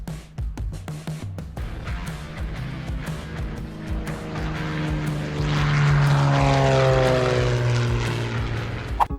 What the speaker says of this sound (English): This plane has clearly never heard of personal space.